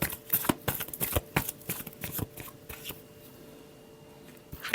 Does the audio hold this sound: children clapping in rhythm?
no